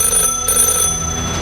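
An office telephone bell ringing continuously, a bright sustained trilling ring that is loud and close, with no talk over it.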